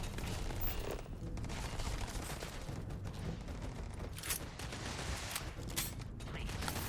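Sustained gunfire in the space game Starfield, a dense continuous rattle of shots and mechanical clatter filling the scene at fairly low level, with no clear speech.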